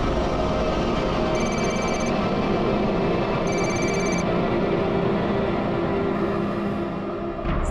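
A telephone rings in repeated short electronic bursts at a steady rhythm, heard over a dense, constant background noise, with no talking.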